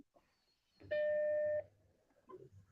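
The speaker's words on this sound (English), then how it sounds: "Let's see if you hear chime." A Mac computer starts up with a single steady chime tone lasting under a second, clear and close over quiet room noise, with faint movement sounds around it.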